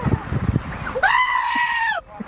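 Goat bleating sound effect: one loud, sustained, wavering bleat about a second long, preceded by brief noisy rustling and sounds.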